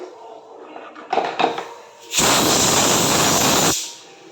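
A pressure cooker holding sambar lets off a loud, broad burst of steam hissing for about a second and a half, preceded by a few clattering kitchen knocks in a quiet room.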